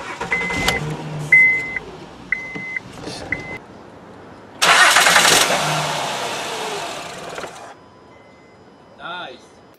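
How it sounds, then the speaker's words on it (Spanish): A 2011 Honda Pilot engine cranks briefly and catches in a loud burst, then dies away after a few seconds as if starved of fuel; clicking and people's voices come before it. "cuando la prende, luego se apaga, como si no hubiera gasolina o algo"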